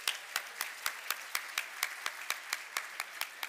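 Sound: applause for award winners

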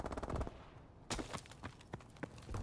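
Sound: gunfire from a video game gun

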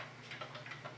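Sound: Gabriel alarm clock ticking

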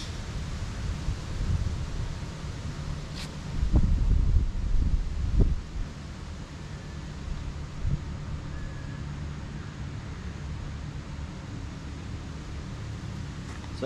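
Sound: strong wind gust on a golf course

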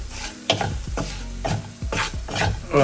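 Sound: stirring asafoetida powder into mulberry pickle

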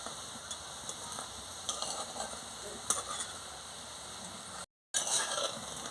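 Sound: soybean gram-flour fritters frying in oil

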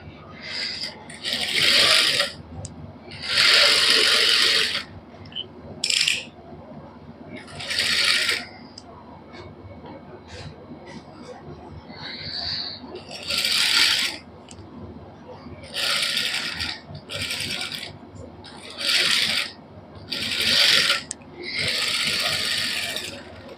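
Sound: sewing machine stitching sides of cotton suit neckline

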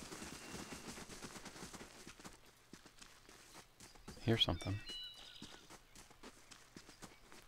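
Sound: footsteps in the video game Pillars of Eternity

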